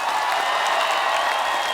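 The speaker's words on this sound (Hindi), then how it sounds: "तो आप सबकी जोरदार तालियों के साथ please welcome the entertainers tour से one and only mister Akshay Kumar" Studio audience applause on an Indian TV comedy show set, steady dense clapping filling the whole moment without pause, loud and close, no voices over it.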